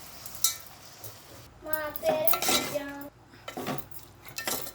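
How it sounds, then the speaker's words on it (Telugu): Tomatoes stirred in a cooking pot for an egg and tomato curry, with scraping spoon strokes and soft metallic clinks against the pot over a low sizzle, in irregular bursts. "టమాటాలు బాగా మండుతున్నాయి కలుపుతుండాలి ఫ్రెండ్స్ మధ్య మధ్యలో"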